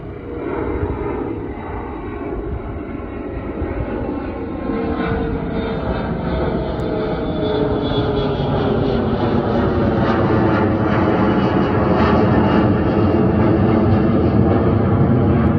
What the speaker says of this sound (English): Wow, the biggest plane you've ever seen, ladies and gentlemen.